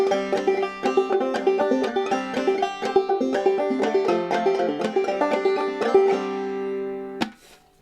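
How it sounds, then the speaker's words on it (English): A banjo in sawmill tuning plays the old-time tune Cuckoo Bird, a bright, rapid stream of plucked notes in steady rhythm, close and clear, ending with a final strum and ringing decay. "This is another classic banjo song that uses Sawmill tuning. It sounds like this."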